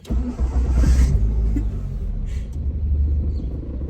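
A 1G DSM car engine cranks and fires, then settles into a deep, steady idle rumble close to the listener.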